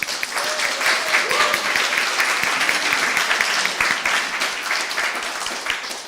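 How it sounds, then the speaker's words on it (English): A room of conference attendees claps steadily for startup pitches, a dense and sustained applause with a few voices faintly mixed in. "I think you earn a huge applause from everyone in this room for your pitches."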